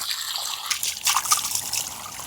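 Water trickles and splashes steadily over banana flowers being washed by hand outdoors in a garden, a close, soft running flow with brief louder gushes, no talking.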